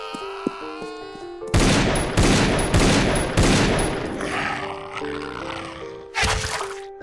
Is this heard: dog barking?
no